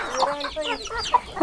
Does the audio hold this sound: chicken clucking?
yes